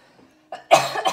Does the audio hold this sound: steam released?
no